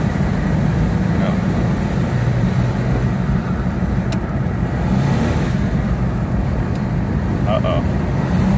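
A 2000 Isuzu Rodeo with a slipping 4L30E automatic transmission, its engine droning loudly and steadily from inside the cabin, with road rumble underneath and someone talking over it.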